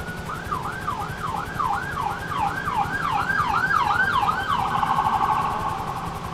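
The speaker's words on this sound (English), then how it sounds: "That was actual real life siren," Wailing emergency vehicle siren, real rather than from a game, sweeping up and down in a steady repeating cycle and shifting into a faster yelp near the end, fairly loud over a constant low hum.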